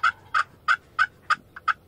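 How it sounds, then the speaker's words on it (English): A wild turkey tom in Missouri gobbles six or seven times in a steady rhythm, each call a short rattling burst, fairly close and clear against a quiet outdoor background with no talk. "I got him to gobble a few times"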